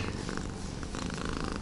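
A cat rubbing against someone outdoors at a lake in India purrs steadily and close up, a continuous rumbling purr with no talk over it.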